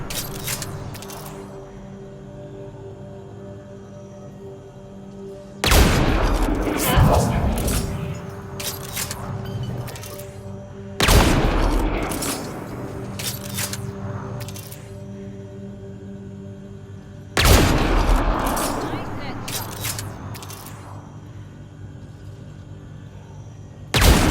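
Bursts of gunfire in the video game Mass Effect: Andromeda: three or four loud, dense volleys of rapid shots and impacts, each lasting a few seconds and separated by quieter stretches of low background game sound.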